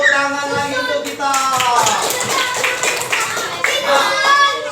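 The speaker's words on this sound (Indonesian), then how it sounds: "Tepuk tangan lagi untuk kita." Children in a primary school classroom clap their hands together in a lively burst, with an adult voice and some chatter heard over and between the claps.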